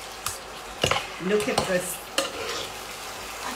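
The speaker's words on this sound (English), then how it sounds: "And then I'm just going to mix everything." Chicken wings mixed with sweet sticky sauce for peri wings, heard as close wet stirring and clattering strokes in a bowl or pan over a low sizzle, with a short spoken remark.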